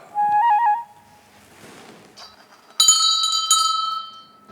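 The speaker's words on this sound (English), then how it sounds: "ring the bell." A bright bell rings twice, first a short wavering chime, then a louder, sustained ringing with shimmering overtones, close and without voices.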